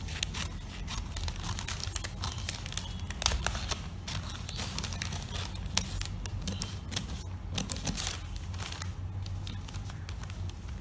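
Scissors cutting through pattern paper for a women's shirt with collar and darts, heard as a quick run of crisp snipping clicks and rustles, close and fairly faint, with no talking.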